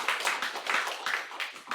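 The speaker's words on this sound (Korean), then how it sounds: "우리 박수하겠습니다." A church congregation claps together in a brief burst of applause, a dense patter of many hands that stays fairly steady and moderately loud throughout.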